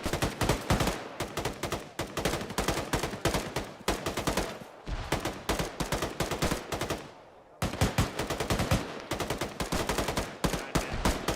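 Rapid automatic gunfire in a military video game, dense bursts of loud shots firing almost continuously with a brief lull before resuming.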